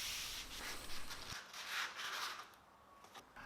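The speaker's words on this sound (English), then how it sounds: "When it arrived, I realized that it needed some sanding." Sandpaper rubbing over the top of a plain cut wooden cornhole board, a steady scratchy swishing that swells and fades in strokes, fairly quiet and close with no voices.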